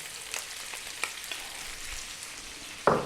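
Cumin seeds, thyme and finely chopped onion sizzle in a pan over medium heat for a lamb stew, a steady soft hiss with a few small pops and a sharper clatter near the end as ingredients drop in.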